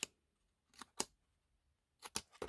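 Scissors snip around the rounded corner of a paper serving tray in short, quiet cuts: a single crisp snip, a pair close together, then a quick cluster of three near the end, with silence between.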